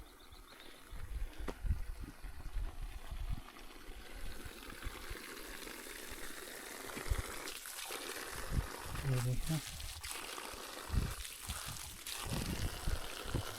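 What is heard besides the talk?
water flowing from two spring-fed taps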